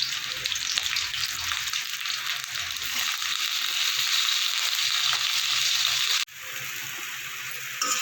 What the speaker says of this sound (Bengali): ফুলকপিগুলো আমি ভেজে নেব, লাল করে আমি ভেজে নেব।